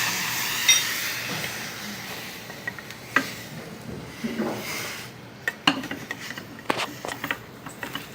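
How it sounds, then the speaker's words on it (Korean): Celery and carrot are stir-fried in a pot, with soft sizzling, scraping and stirring, and intermittent sharp clinks of a utensil against the pot, close and unhurried. "우리가 이렇게 볶다 보면 또 수분이 없어질 거고 냄비 바닥이 갈색으로 변하겠죠"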